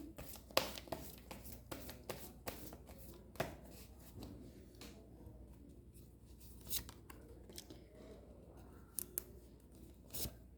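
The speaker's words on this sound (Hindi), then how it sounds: "अभी थोड़ा सा मैं इसको शफल कर लूँ।" Tarot cards are shuffled by hand, producing quiet, irregular flicks and sharp papery snaps scattered through a soft, close background.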